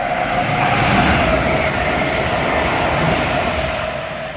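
A Class 801 five-car train passes close by, its loud steady rumble and rail roar holding for several seconds before easing slightly at the end, with no voices.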